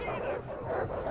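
War dogs bark and yip in a Rome II battle, a short burst of excited canine yelps over the surrounding din.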